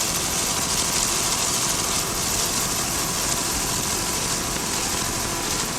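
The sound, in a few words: 33-foot Phantom powerboat, twin 500-hp Mercury inboard engines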